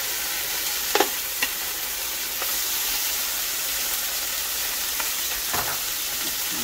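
Pork chops back in a hot pan, a loud, steady sizzle and hiss of frying with a few sharp clicks and scrapes of a utensil, no talking.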